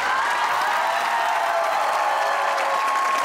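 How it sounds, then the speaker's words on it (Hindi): Steady applause from a studio audience on a comedy talk show, a dense even wash of clapping that carries at constant loudness for a few seconds with no talk over it. "तालियां बजाइए यार"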